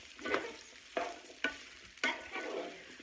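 A spatula stirs sliced farm-fresh food in a frying skillet, giving four or five distinct scraping strokes over a soft, continuous sizzle, close and fairly quiet, with no talking.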